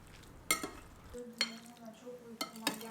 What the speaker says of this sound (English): I mixed in a generous amount of yogurt